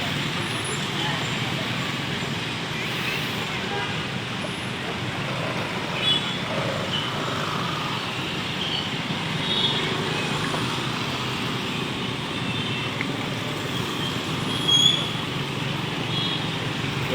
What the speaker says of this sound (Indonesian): Karena ya, seperti inilah kondisinya di Jalan Sultan Alauddin ini, sangat kemacetannya cukup parah.